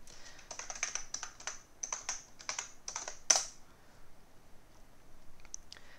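Close, clicky typing on a computer keyboard while entering a router login, in quick bursts of keystrokes with short pauses, ending with a single sharp key tap and a few sparse clicks.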